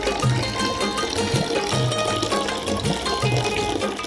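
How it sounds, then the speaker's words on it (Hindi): Water pouring into a large household storage tank, a continuous gushing splash under steady trickling, with some faint tonal sounds in the background throughout. "इतनी ही देर में पानी आ चुका है आज बड़ी वाली टंकी का"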